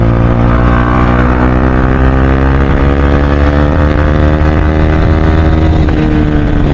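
A KTM Duke 390 BS3 motorcycle drones loudly and steadily in fourth gear, its engine and exhaust holding a dense, even roar close to the listener throughout.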